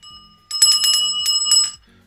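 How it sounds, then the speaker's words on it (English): A small ornamental fireplace bell, probably around 1970s vintage, rung in a few quick bright strikes with a clear sustained metallic ring, close and alone. "Oh, it's a bell."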